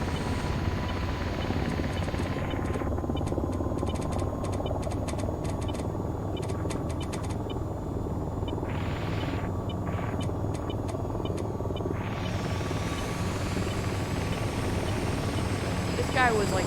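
A helicopter in a video game flies with a loud, steady rotor-and-engine drone that holds throughout, with faint voices in places.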